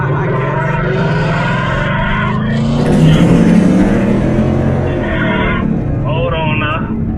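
Loud Ford Mustang engines and exhausts roar and rev together close by, a dense continuous rumble with rising whines, while people shout over it.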